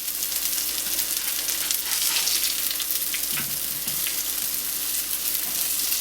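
Nutrient burger patties fry in a hot pan, giving a steady, close, unbroken sizzle and crackle that holds level throughout with no talking.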